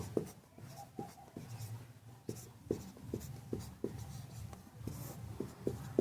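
Pen or chalk writing by hand during a lesson on the Indian Constitution, heard as steady, close scratching strokes in an irregular rhythm with faint background noise and no voices.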